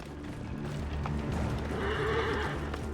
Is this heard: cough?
no